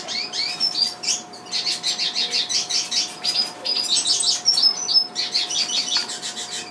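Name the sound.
young chick chirping, begging for food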